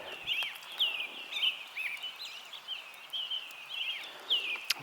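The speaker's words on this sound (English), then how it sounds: "Louder bird made all the little birds stop for a second." Small birds sing by a lake on an overnight backpacking trip, thin high chirps and warbling trills repeating steadily, faint and somewhat distant over a quiet background.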